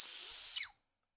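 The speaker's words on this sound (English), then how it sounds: "So here's what it sounds like when you whistle with it." Loud high whistle blown through a hollow ramen-flavored Coris candy shell, two steady piercing tones lasting about half a second before sliding down and cutting off into silence.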